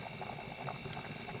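Water bubbles at a steady rolling boil in a pot on a cooking fire at an overnight fishing camp in Zambia, a close, continuous simmering hiss with a faint background hum.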